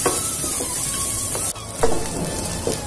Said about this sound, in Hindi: अब इसी के साथ हम ये प्याज भी डाल दे रहे हैं, तो प्याज को थोड़ा सा सॉफ्ट हो जाने देते हैं।